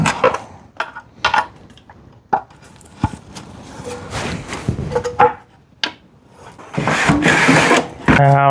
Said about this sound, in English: I'll pull the valve cover gasket off.